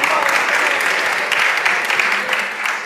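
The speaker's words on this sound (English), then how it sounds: "Clap it up for that, please." Loud, dense audience applause at a conversation event on music, love and consciousness, a continuous wash of many clapping hands filling the whole stretch with no pauses.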